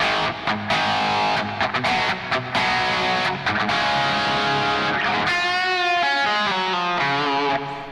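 Distorted electric guitar on the bridge pickup with reverb, playing rock chords and then sustained ringing notes with a wash of reverb trailing behind, loud and continuous with no voices.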